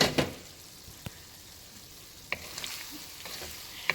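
Chorizo and potatoes simmer gently in a pan with a soft, quiet sizzle, broken by a few sharp clicks and scrapes of a utensil and no talking.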